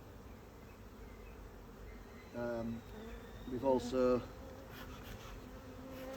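Honeybee colony of over 100,000 bees buzzing steadily throughout, a constant close hum with a voice speaking briefly over it.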